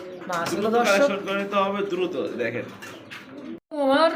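Masaldom pigeons, including a single male, coo close by in loud, throaty, rolling calls that run almost continuously with one brief pause near the end.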